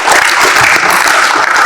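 A classroom of students claps together in a loud, close, dense burst of applause lasting just under two seconds.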